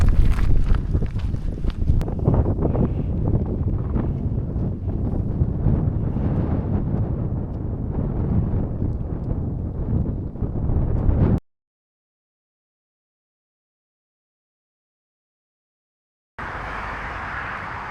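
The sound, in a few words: wind on exposed hill walk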